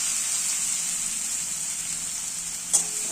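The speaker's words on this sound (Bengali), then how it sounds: "এটাকে লাল করে ভালো করে ফ্রাই করে নেব।" Steady, bright sizzling of chopped chili and onion frying in hot white oil, with a small clatter near the end.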